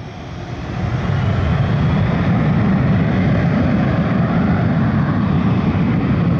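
Blue Angels jet engine run-up with the park brake off, a loud steady roar that swells in the first second and then holds as a constant heavy rumble.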